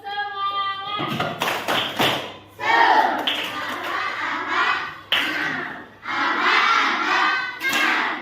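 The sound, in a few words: group rhythmic clapping, tepuk semangat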